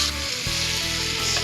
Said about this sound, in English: Put some pan-fried coho for breakfast. Caramelized garlic and onion.